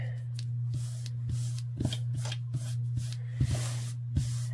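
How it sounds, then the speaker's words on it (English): A spray bottle mists water onto fabric before ironing, several short hissing squirts in an irregular series, close up over a steady low electrical hum. "I spray it with water and I flatten it out"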